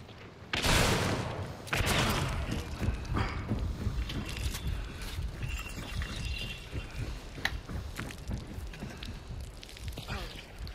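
Hand cannon shots ring out in the shooter game Hunt: Showdown, with two loud booming blasts close together followed by quieter, scattered gunfire and echoing noise.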